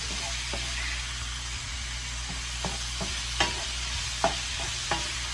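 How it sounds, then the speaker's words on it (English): Pepper steak stir-frying in a pan, giving a steady close sizzle with scattered scraping stirs and a few sharper clacks of the utensil against the pan, and no talking. "So we're just gonna continue to stir fry"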